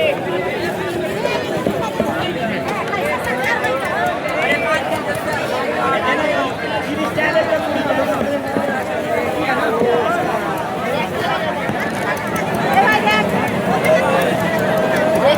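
Dense, steady bustle of a crowded outdoor vegetable market, with many overlapping voices chattering close and far, and continuous busy background noise throughout.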